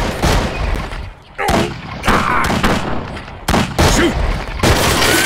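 Gunfire from units in the strategy game Battle Realms, bursts of crackling shots repeating in close succession, loud and dense, mixed with short game voice callouts.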